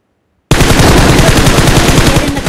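Rapid automatic gunfire in the mobile battle-royale game BGMI (PUBG Mobile), a loud sustained burst of closely spaced shots that begins abruptly after a brief silence and continues steadily to the end.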